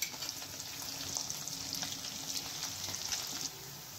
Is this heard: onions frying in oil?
yes